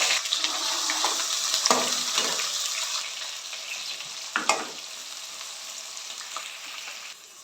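Onions sizzle and crackle in hot oil for fish biryani, a steady loud frying hiss with a few sharp pops and stirring clatters, no voices.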